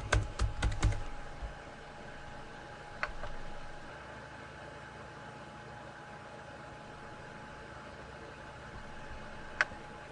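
Fingers type a password on a computer keyboard: a quick, close burst of keystrokes in the first second, then single sharp taps a few seconds apart over a quiet background hiss.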